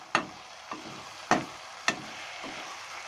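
Spoon scraping and clinking against a pan while chili sauce is stirred into chicken and vegetable fried rice, with four or five sharp, separate knocks over a soft sizzle.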